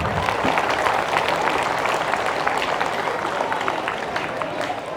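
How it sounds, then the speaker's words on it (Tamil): An audience claps for schoolchildren after their dance performances at a primary school event, a dense, steady wash of applause filling the whole stretch without letting up. "எல்லாரும் இந்த குழந்தைகளுக்கு கைத்தட்டுங்க பார்க்கலாம்"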